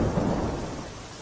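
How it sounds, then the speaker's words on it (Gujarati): Heavy rain pours down with a dull rumble of thunder in Kutiyana, Porbandar, during a monsoon downpour. It forms a steady, loud wash of sound with no voices. "પોરબંદરના કુતિયાણામાં ભારે વરસાદ છે તે વરસી રહ્યો છે"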